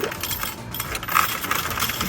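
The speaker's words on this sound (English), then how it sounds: "Everything was going fine as I was putting in my nickels," Nickels dropped one after another into a coin machine, a run of metallic clinks and rattles, loud and close, with a brighter ring near the middle.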